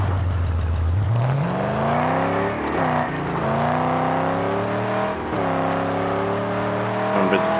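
A car engine in the Mad Max video game surges as a nitro boost kicks in, its pitch climbing steeply and then holding a loud, sustained whine with a couple of brief dips.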